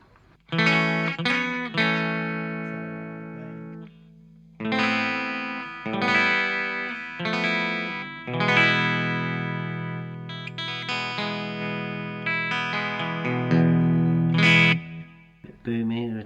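Electric guitar run through a Boss GE-7 equalizer pedal placed in front of the amp, played as a series of distorted chords and ringing notes in separate bursts with short silent gaps between them.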